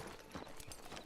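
A horse's hooves clip-clop softly and steadily in the open-world video game Red Dead Redemption Online, a faint, even walking rhythm with no voices.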